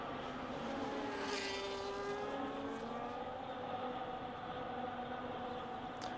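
Onboard an Aston Martin race car, the engine sends out a steady, loud, continuous drone with gently shifting pitch and no pauses.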